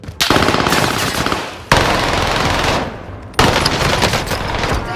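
Video game gunfire from Warzone comes as three loud, sustained bursts of rapid automatic fire. Each burst cuts off abruptly before the next begins, with no talking.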